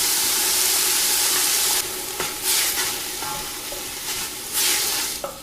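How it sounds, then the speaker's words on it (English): Onions, celery and carrots sautéing in a couple of teaspoons of olive oil, a loud continuous sizzle that drops in level and then returns in bursts as the vegetables are stirred, with no voices. "I'm just going to add a couple of teaspoons of olive oil, and I'm going to start with the trio: onions, celery, and carrots"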